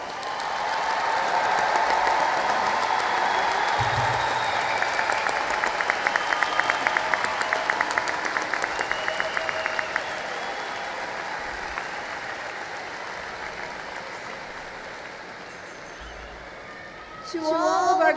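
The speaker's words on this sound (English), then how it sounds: "Let us acknowledge the accomplishments of this distinguished graduate one more time with some hearty" Audience at a graduate school commencement giving a graduate a long, steady round of applause that fills the hall, with a rhythmic clap pattern emerging midway before it fades and a voice returns at the end.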